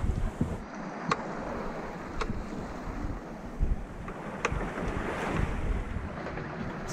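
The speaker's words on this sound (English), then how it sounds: "It's really rough outside and super windy, but in weird gusty ways" Strong gusty wind buffeting a sailboat at sea in rough conditions, continuous roaring wind noise over surging waves, with occasional sharp creaks and knocks from the boat.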